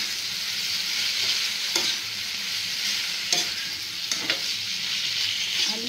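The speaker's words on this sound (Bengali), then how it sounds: "এবারে একটু নাড়িয়ে চাড়িয়ে, দেখতে পাচ্ছি তেল তেল ছেড়ে দিয়ে নাড়িয়ে আলু সেদ্ধটা দিয়ে দিই।" Boiled potatoes go into hot oil in a pan and are stirred, giving a steady loud sizzle throughout with a few scraping spoon strokes cutting through, and no voices.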